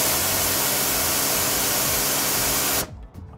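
A Kärcher K5 Compact pressure washer sprays hard, a loud close steady hissing roar that cuts off abruptly near the end, leaving a few faint sputters.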